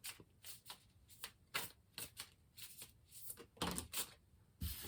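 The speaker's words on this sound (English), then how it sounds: "We're going to keep shuffling for our lovely Pisces." A deck of tarot cards is shuffled by hand, giving a quick series of crisp, papery riffles and slaps in irregular bursts, close and fairly quiet with no talking.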